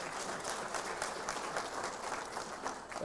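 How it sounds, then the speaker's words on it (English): Audience at an education results announcement ceremony clapping together, a full, steady wash of applause that carries on evenly for a few seconds without speech. "Can we give ourselves a round of applause?"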